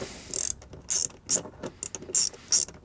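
A hand ratchet clicks in quick repeated bursts while backing out a lower screw from a molded splash mud guard on a GM truck, crisp close metallic rattling strokes with short pauses between them and no speech.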